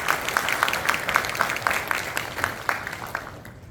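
Audience at a youth drug-prevention symposium in a large auditorium in Busan clapping to welcome a professor, a fairly loud, steady round of applause from a moderate crowd, lasting a few seconds.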